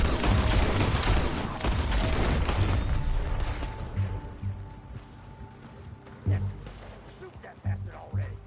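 A heavy, rapid fusillade of gunshots in the Western game Red Dead Redemption 2 roars loud and close at first, then thins into scattered individual shots and booms, with voices speaking over the later part.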